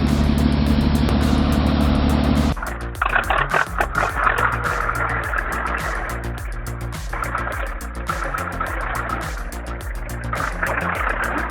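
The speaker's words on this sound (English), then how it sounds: "someone's having a little too much fun with a T40 tractor on a frozen lake" A T40 tractor engine runs on a frozen lake, a steady mid-pitched mechanical drone with rhythmic pulsing and occasional revving, close and continuous for the whole stretch with no voices.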